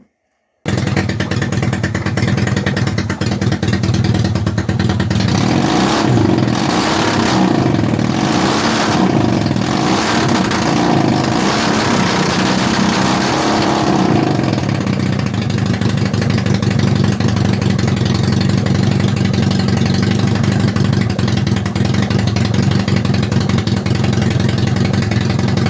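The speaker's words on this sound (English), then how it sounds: "So it revs." Honda CB450 motorcycle engine running without an airbox and needing carburettor mixture adjustment: a loud, steady idle broken by several rising and falling throttle revs in the middle, then settling back to a rough, even idle.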